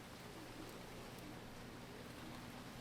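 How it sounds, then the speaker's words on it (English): Heavy rain pours steadily outdoors, a dense, even hiss with no breaks, faint in level and with no voices over it. "We don't see rain like this."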